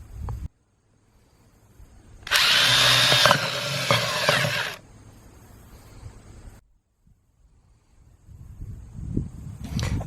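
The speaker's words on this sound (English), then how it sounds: "drill more holes in the bottom of my containers" A power drill whirs loudly for a couple of seconds while boring holes in the bottom of plastic pots, framed by quieter handling clatter and a shorter, softer burst of drilling after it.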